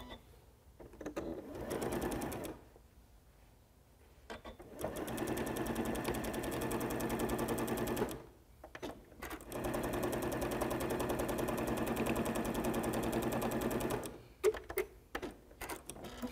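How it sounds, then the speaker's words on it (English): A sewing machine stitches the short edges of a placemat in several long runs of rapid, steady mechanical chatter, separated by brief pauses, close and loud. "So I'll begin to sew my short edges of the front side of the placemat and the back side of the placemat"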